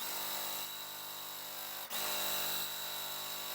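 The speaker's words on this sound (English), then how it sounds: "So I'm just going to sew." A sewing machine stitching quilt pieces for a half square triangle block, running as a steady, close mechanical whir throughout with one brief dip near the middle and no talking.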